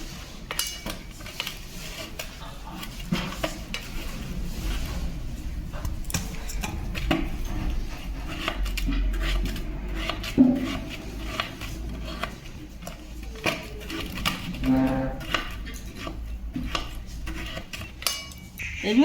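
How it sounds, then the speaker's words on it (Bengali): Steel fork tines repeatedly pricking pieces of ash gourd (chalkumro) being prepared for murabba, a steady run of light clicks and taps against a plate or bowl, close and moderately loud with no talking. "কুমড়োগুলোকে আমি কাঁটা চামচ দিয়ে এইভাবে ফুটো করে নিচ্ছি সব।"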